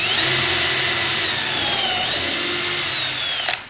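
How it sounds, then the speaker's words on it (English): A power drill driving a screw into wood whines loudly and steadily, its pitch dipping briefly as it bites in, then cuts off abruptly at the end. "you're going to lean it over further and keep drilling"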